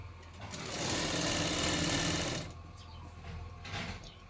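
A sewing machine stitches a seam on a long frock, its needle whirring in a fast, even close-up hum for about two seconds before slowing to a stop, followed by fabric handling and soft clicks.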